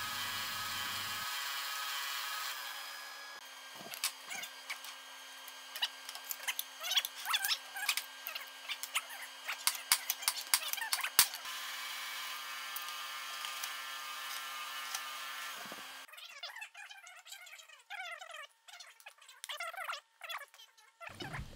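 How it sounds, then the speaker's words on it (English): A draw knife shaves a wooden hammer handle clamped in a vise, giving a series of short, irregular scraping strokes, close and fairly quiet, with a faint steady hum at first and busier scraping near the end. "I can take it over to the vise and I can start using the draw knife to get that hammer eye uh, cut down"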